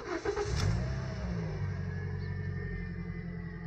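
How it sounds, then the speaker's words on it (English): A Toyota car with an MMT semi-automatic gearbox starts up, its engine catching within the first second and then settling into a steady, close idle with no talk. "Now push the brake and start the car."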